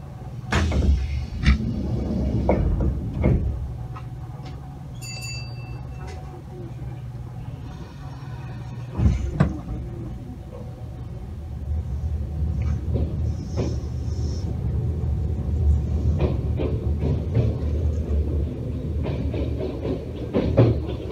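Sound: train doors closing and train departing

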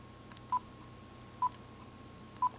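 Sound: telephone dialing tones calling a cell phone

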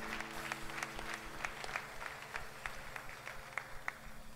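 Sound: congregation clapping for a young lady

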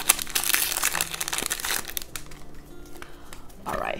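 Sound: crinkling foil wrapper of a Pokemon card booster pack being opened

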